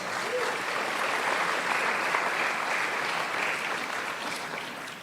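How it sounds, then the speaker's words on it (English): Sustained round of applause from a community town hall audience honoring a school's young people and staff, a steady dense wash of clapping with no talk. "please give our young people of this school and our staff a great round of applause"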